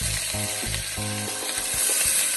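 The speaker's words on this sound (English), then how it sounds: "You want to sear them off on all the sides." Oxtail pieces searing in vegetable oil in a pot produce a loud, continuous frying sizzle with a low droning hum, and the meat is shifted with a few clunks toward the end.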